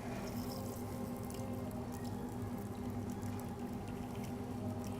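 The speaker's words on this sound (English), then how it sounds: "And Hawthorne strainer. You strain over fresh ice." A cocktail is strained through a Hawthorne strainer over fresh ice, giving a steady, close, soft wash of pouring liquid that trickles and splashes without a break, with no talking.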